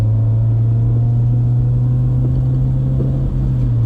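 A stock first-generation Honda CR-V (RD1) fitted with a Yonaka catback exhaust accelerates through the gears, giving a steady, loud, deep exhaust drone from inside the cabin with no talk.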